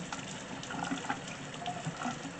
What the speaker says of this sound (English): You have to wash your breadfruit.